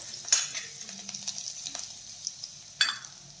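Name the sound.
crushed garlic frying in hot oil in a wok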